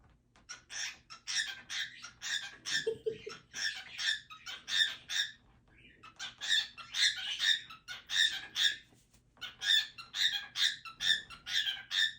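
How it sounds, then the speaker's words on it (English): A pet cockatiel giving loud, goose-like honking calls in a home near the laundry, rapid harsh squawks in quick bursts with short pauses between, close and unaccompanied. "I hear you honking like a goose."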